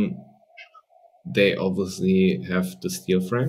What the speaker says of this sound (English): If you hear the cat in the background, she wants to come out.